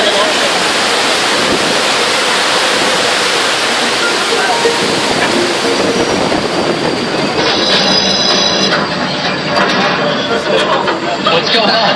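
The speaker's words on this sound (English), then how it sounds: "The water main just broke!" Water gushes from a broken water main in a loud, steady, broadband roar, with a brighter hissing layer joining partway through and continuing to the end.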